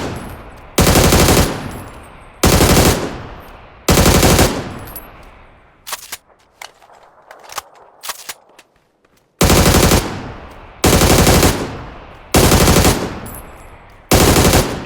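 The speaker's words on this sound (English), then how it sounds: "But now we're going to shoot with it." Automatic rifle fire in the shooter game PUBG comes in long sustained bursts, loud and close, several sprays separated by short pauses, with a stretch of scattered single shots and clicks in the middle.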